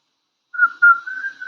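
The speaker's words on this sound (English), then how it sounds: "I whistled." One person whistles alone, a short clear rising note followed by a longer sustained tone, close and fairly loud against silence.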